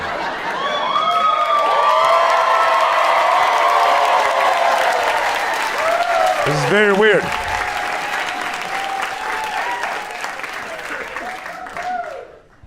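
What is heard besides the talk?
audience clapping and cheering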